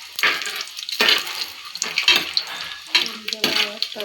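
Whole spices frying in hot oil for home-style ghee rice, a steady sizzle broken by repeated scraping stirs at a fairly close distance, with no one speaking over it.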